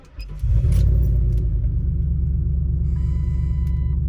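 A 1998 Lincoln Town Car with a rusted-out, failing exhaust cranks and fires up, then settles into a loud, steady, deep rumbling idle close by, with a faint high whine late on and no talking.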